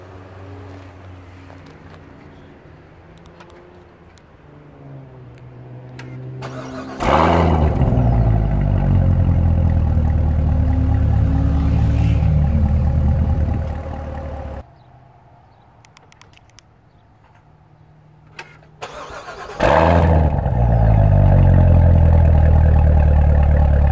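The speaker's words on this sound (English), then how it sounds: "2018 Corvette Z06 Convertible. Stick around for a startup." A 2018 Corvette Z06 Convertible in Racing Yellow starts up twice: each time the engine fires with a sharp burst, then holds a loud, deep, close rev before cutting off to a quiet pause.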